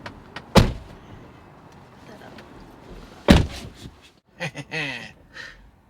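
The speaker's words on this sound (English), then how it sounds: "Just hold the button on top of the handle there and push the door to get out." A Tesla car door is heard in two sharp, loud thumps a few seconds apart, with a faint cabin hum between them and brief voices and rustling afterward.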